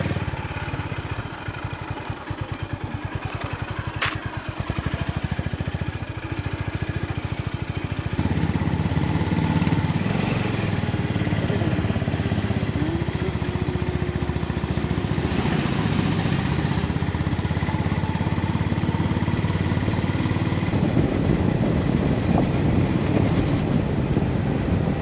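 A motorcycle engine starts with a sputtering, uneven idle, then settles into a loud, steady running drone as the bike rides on for the remaining twenty seconds without talk.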